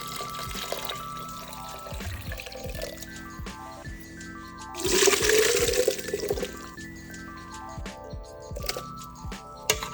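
Water gushes and splashes into a blender of carrot soup in a burst near the middle, sloshing loudly for a second or two amid background clatter and a faint mechanical hum.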